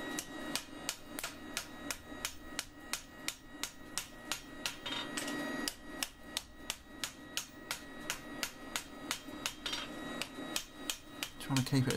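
Hot steel from farrier's rasps is hammered flat on an anvil in a steady run of sharp, ringing metallic strikes, evenly spaced and fairly close, with faint background noise.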